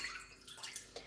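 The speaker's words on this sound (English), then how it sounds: "So I'm going to pour my orange juice in here," Orange juice poured into a heated pot on the stove, a short faint trickling and splashing of liquid against metal, quiet and close with no talk.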